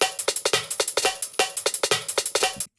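Dry percussive pattern from an electronic track, heard without vocoder, EQ or compression: quick, bright, clicky metallic hits in a steady busy rhythm, close and upfront, stopping abruptly at the end.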